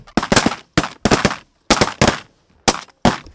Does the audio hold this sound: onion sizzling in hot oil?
no